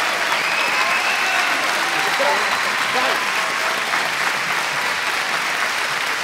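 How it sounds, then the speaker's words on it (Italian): Sustained audience applause fills the Cinema Adriano in Rome at the premiere of Max Nardari's film, a dense, steady wash of many hands clapping at even loudness throughout, with faint voices and cheers mixed in. "Questo applauso è tutto per te!"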